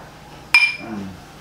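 Glasses clink together once in a toast, a sharp bright ring that fades over a moment, followed by faint low murmuring.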